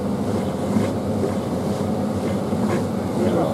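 A Hitachi portable top-loading washing machine on its final spin at about 800 RPM gives a steady, dense whirring rumble, close and continuous throughout.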